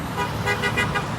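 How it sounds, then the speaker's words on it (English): A car horn sounds briefly at a street roadside, a short bright honk blended with passing traffic noise. "There's a honk of support."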